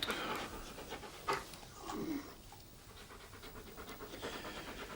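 A police dog pants in quick, rhythmic breaths, faint and close, with a couple of louder huffs mixed into the steady low background.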